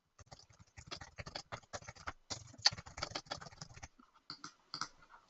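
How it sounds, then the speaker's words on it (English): Slow, uneven typing on a computer keyboard, clusters of close key clicks with short pauses, thinning out toward the end. "you're going to have to excuse my super slow typing."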